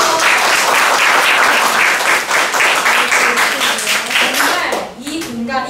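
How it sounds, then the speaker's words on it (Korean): Children and adults at an elementary-school reading debate contest applaud loudly together, dense close clapping sustained for about five seconds before tapering off, while a voice talks over the final moments. "박수 한번 칠까요?"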